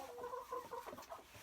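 A little red hen clucks softly in a short run of quick, low, nasal clucks at close range, with no voices over it.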